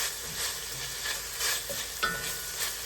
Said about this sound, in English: Let's add the onions. And we'll let those wilt.